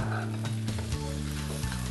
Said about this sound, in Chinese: 好啦，我哋炒一陣先。